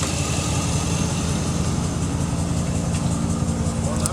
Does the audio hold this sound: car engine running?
yes